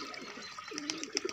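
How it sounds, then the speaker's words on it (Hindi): Water being poured into a mixture of ingredients, a brief, faint trickling and splashing pour with small bubbling accents toward the end. "2 किलो पानी डाल रहा हूँ।"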